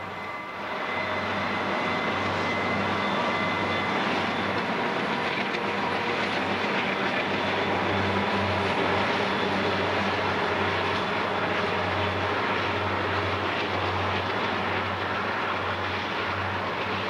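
A westbound Kansas City to Roseville vehicle freight train led by a pair of Wisconsin Central locomotives on a high mountain mainline, a steady loud diesel rumble and rolling drone that holds evenly throughout, with no voices.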